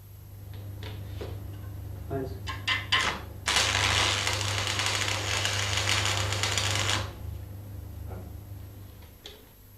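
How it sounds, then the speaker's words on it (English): Arc welding a short tack weld, about 10 mm long, in the corner of a joint: a loud, steady crackling hiss lasting about three seconds, framed by scattered ticks and a constant low hum. "Strike the arc at the end and move inwards to make a tack weld about 10 millimeters long."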